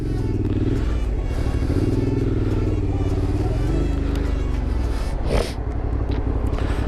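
A Suzuki V-Strom 650 XT motorcycle rumbles on a ride to work, engine note shifting as it accelerates amid wind noise, with a brief clatter near the end.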